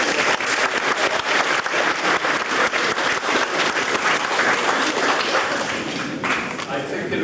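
A church congregation at a Methodist service claps along in a steady rhythm, the beats dense and continuous with some thumping mixed in throughout.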